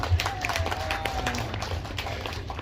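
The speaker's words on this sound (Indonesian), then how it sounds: "Tepuk tangan Bapak Ibu sekalian" An audience claps at a birthday celebration for a regency head turning 53, a brief steady patter of many hands close by with a little background chatter.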